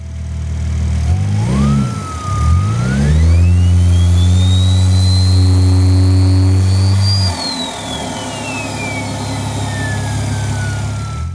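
A Toyota A90 Supra with regular exhaust and intake revs up loudly near the microphone, climbing through a strong, smooth pull as a rising whine builds, then drops off to idle while the whistle trails down.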